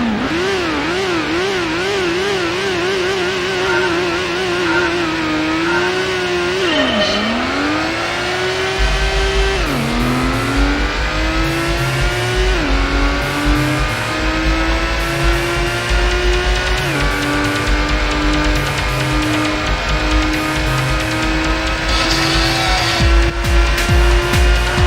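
A Toyota Supra Super RZ race car engine in the Gran Turismo video game drones loudly and continuously, revving up through the gears with pitch dips at shifts and tire squeal through tight turns, with no talking.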